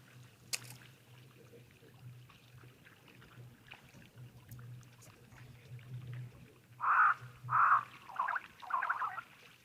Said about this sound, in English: Those crows are making really interesting gurgling sounds.